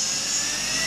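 An alternator converted into an electric motor whines at its highest RPM, a loud, steady high-pitched spinning tone held for a brief second with no talk over it.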